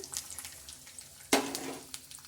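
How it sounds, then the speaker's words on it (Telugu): Cashews and garlic hit hot oil in a pan with cumin and a dried chili, a soft crackling sizzle that jumps louder at the moment they are added, then keeps spitting steadily. "తర్వాత జీడిపప్పు, వెల్లుల్లిపాయ ఇవి కూడా వేస్తున్నాను."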